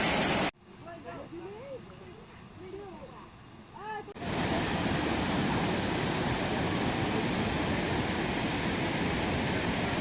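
A river rushes loudly as a kayaker charges downstream, a dense continuous roar that fills the second half. The first part is quieter and holds talk over a faint background.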